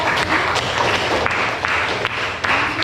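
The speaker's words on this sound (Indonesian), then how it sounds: "Oke, tepuk tangan untuk" Applause fills a classroom, a steady wash of many hands clapping at once for a few seconds, moderately loud and even throughout.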